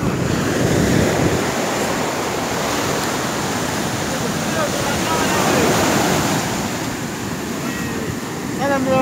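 Ocean surf rolls in steadily at the seashore, a broad continuous wash of breaking waves with some wind buffeting the microphone, loud and close throughout.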